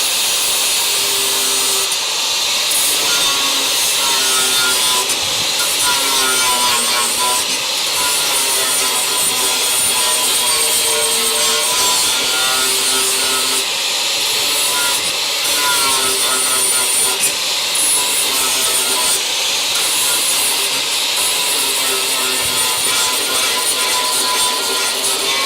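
A flap disc on an angle grinder grinds down welds on a steel car rail of a Crew Cab Charger, giving a loud, steady high-pitched whine with rough rasping that rises and falls as the disc is pressed on and eased off.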